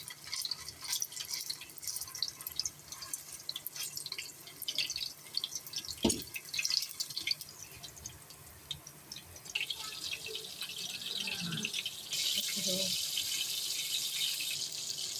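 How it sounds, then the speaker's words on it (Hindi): Kofta meatballs fry gently in oil over low heat, making a faint, continuous soft sizzle and scattered bubbling crackles, with a few clicks and light handling noises nearby. "हम इसको अच्छे से हल्की आंच में फ्राई करेंगे गोल्डन ब्राउन होने तक।"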